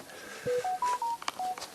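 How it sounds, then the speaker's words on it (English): A phone rings outdoors on a mountain top, sounding a short melodic run of distinct electronic beeps at changing pitches, moderately quiet and alone. "I guess I'm going to have to answer my phone by the sounds of it."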